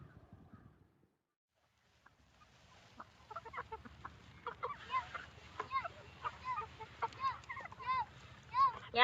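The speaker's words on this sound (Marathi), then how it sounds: "या असा कोंबड्याला दाल दाणा टाकाय सवय लावला की मग त्या शिरत्यात" Chickens being fed grain cluck in quick, scattered bursts that build from near silence into a busy, close flock chatter.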